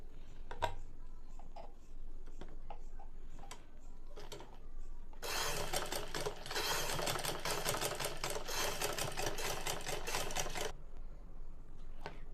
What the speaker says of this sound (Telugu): జాగ్రత్తగా క్లాత్ జరుపుకుంటూ మిషన్ కుట్టుకుంటూ ఉంటే మనకి రౌండ్ అనేది నీట్గా వస్తుందమ్మా మనకి